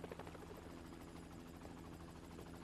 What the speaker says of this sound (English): We called in the chopper.